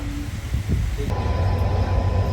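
An electric train on the USBRL line near Reasi, heard as a loud continuous rumble with a steady mechanical hum that grows slightly stronger midway, with no voices.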